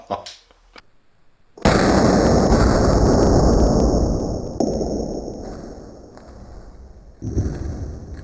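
A Lung Trainer gun fires a single loud blast after a quiet pause, then a long hissing rush of air that slowly fades and surges again near the end.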